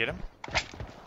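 Footsteps in the video game PUBG Mobile, a few soft quick steps heard briefly around a short spoken question.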